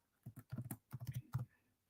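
Keys clatter on a computer keyboard in quick bursts of close, crisp clicks, typing a short word in a few rapid clusters with brief pauses, no voices.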